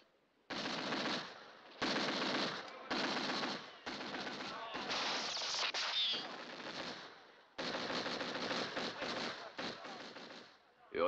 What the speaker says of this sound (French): Avec la mitrailleuse, on ne peut rien faire.